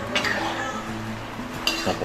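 A spoon clinks and scrapes around a pot as boiling chicken is stirred, close by, with a faint background hum and a voice speaking briefly.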